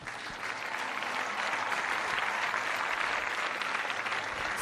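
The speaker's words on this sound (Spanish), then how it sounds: "Fuerte el aplauso al Señor." A church congregation applauds loudly and steadily for the whole span, a dense wash of many hands clapping with no speech over it.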